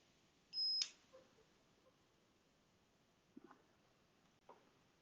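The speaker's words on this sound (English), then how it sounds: "You can hear there's a little bit of a beep on the device itself" An iRepair box device gives one short, sharp, high beep as it is plugged in, followed by a few faint clicks in an otherwise quiet room.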